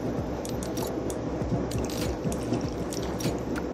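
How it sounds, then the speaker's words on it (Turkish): Tomato sauce for imam bayıldı poured into a baking tray over stuffed eggplants, a steady close wet splashing and dripping with a continuous liquid hiss for a few seconds and no talking. "Bunu da tepsiye döküyorum sos olarak."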